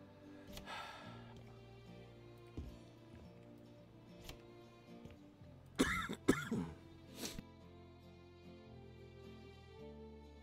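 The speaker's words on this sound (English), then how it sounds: "Yeah, I cough my head off." A burst of harsh coughing fits around the middle, close and loud, over quiet background game music and faint ticks while someone plays House Flipper 2.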